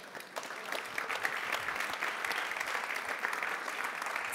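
Applause from an audience at an Austrian science award ceremony honouring prize-winning schools, a steady dense wash of clapping that fills the room without a break, moderately loud and with no voices over it.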